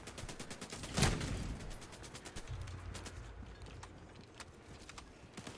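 Rapid automatic autocannon bursts from a sentry turret in a video game, a sharp loud volley near the start followed by softer repeated shots over a steady low rumble.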